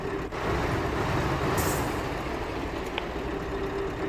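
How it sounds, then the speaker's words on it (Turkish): A Scania S730 truck engine in a video game drones steadily at a low, even rumble throughout, with no talking. "Aracın motor sesi böyle."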